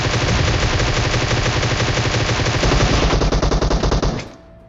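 Loud, rapid automatic gunfire in PUBG, a dense burst of shots sustained for about four seconds before cutting off abruptly into a quiet tail.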